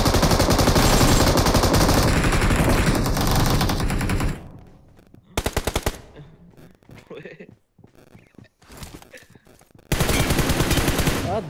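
Video game bots firing guns in rapid machine-gun bursts and volleys, loud and dense at the start and end with scattered sharper shots between, under casual speech.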